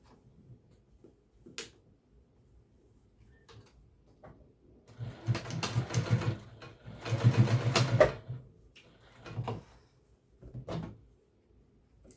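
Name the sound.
sewing machine basting apron ties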